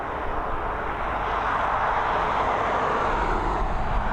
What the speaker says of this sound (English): Just watch the BA fly over you, it's pretty loud.